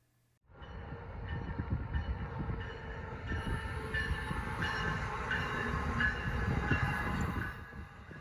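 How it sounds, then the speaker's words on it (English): An Amtrak train passes near the Penn State Harrisburg campus, its loud, steady rumble and rattle rising sharply at the start and holding for several seconds before easing off, with no voices. "greeted by a passing train as they pull in and out of campus"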